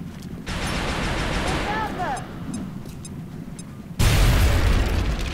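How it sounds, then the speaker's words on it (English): An HE grenade detonates against enemy cover in the XCOM strategy game, a loud burst landing midway through after an earlier stretch of game sound and debris crackle, with a spoken voice running beneath. "using our HE grenade to blow up his cover"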